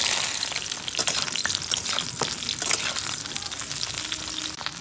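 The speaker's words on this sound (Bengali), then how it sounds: "প্রথমে আমি বেগুনটা ভেজে নিলাম।" Eggplant pieces fry in oil for shukto, making a loud, dense crackling sizzle that holds steady throughout, with a few sharp spits and bursts close to the pan.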